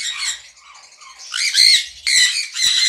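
A pair of sun conure parrots lets out loud, harsh squawks in bright bursts, with a short quieter stretch before two strong calls near the end.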